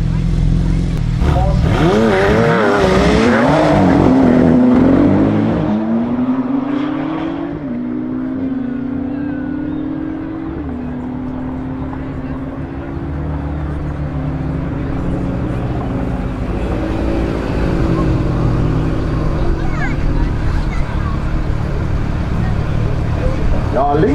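Two Porsche sports cars launch side by side in a drag race, their engines roaring loud and rising in pitch as they accelerate and then fade, with crowd noise and talk layered over the run.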